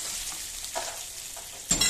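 Boiled taro root pieces hitting hot oil with curry leaves in a pan, a steady close sizzle with soft stirring scrapes and a louder burst of frying as more goes in near the end, no voices.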